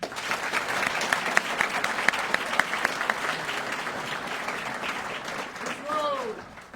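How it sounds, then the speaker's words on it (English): An audience at a graduation ceremony claps steadily for several seconds for the awardees, a dense wash of applause, and a voice briefly speaks near the end as it fades. "Please join me in a round of applause for all our awardees."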